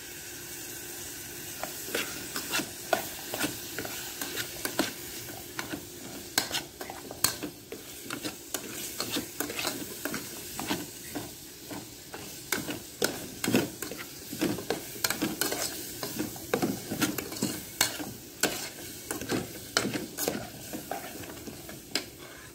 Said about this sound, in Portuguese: Agora eu tô refogando a sopinha do Murilo